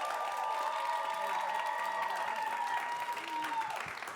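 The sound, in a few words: audience applause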